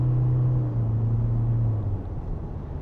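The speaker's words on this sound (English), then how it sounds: "when you reach a certain amount of kilometers, you see that whizzing sound" Low steady drone inside a 2025 Toyota Corolla Cross XR hybrid, a faint whine from the CVT gearbox over road rumble, fading slightly toward the end, with no talk.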